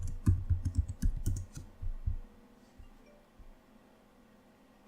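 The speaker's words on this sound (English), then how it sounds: "You'll have to type your computer password again." Keys tapped on a computer keyboard while a password is entered, a quick burst of close clicks during the first two seconds, then a near-silent pause and a few faint taps.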